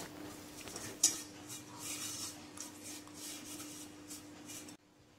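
Oil is brushed around the inside of a cake tin for an eggless wheat cake, giving a soft, continuous scraping rub against metal with one sharp clink early on, stopping abruptly near the end.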